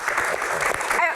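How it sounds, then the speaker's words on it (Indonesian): An audience at a Q&A session breaks into a brief burst of close, dense clapping, with a voice heard at the very end. "Tepuk tangan dong."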